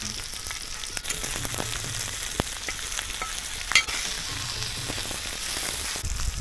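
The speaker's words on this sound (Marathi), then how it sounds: "आता याच्यावर आपण तवा ठेवू. तेलावरती फ्राय करायला घेतली." Steady, close frying hiss of fish in oil on a hot griddle, with occasional soft clicks and scrapes; no talking.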